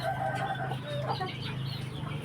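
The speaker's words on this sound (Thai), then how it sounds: "เป็นไก่ตัวแรกของเจ๊แตนนะครับตัวนี้นะครับ" A breeding rooster clucks softly in short, irregular calls over a steady low hum, at moderate distance and with no talk.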